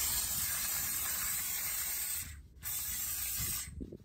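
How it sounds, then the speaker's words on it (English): Steam cleaner hissing close up while cleaning pet hair from a car's interior, a loud continuous spray of steam that cuts out briefly twice, with no talking. "Just be careful, guys, not to leave the steamer close to the material or leave it in one spot for too long"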